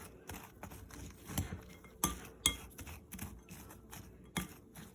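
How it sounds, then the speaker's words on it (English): Chopped walnuts being mixed with sugar and cinnamon in a bowl for qatayef stuffing, giving close, irregular scraping and light clinking strokes with a few sharper clicks, no voices. "To the chopped walnuts, I'm adding 1/2 cup of sugar and 1 tablespoon of cinnamon, and I'm gonna mix them"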